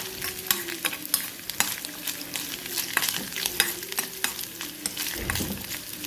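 Frying in coconut oil with a spatula repeatedly stirring and scraping the pan, a steady close sizzle broken by frequent sharp scraping strokes.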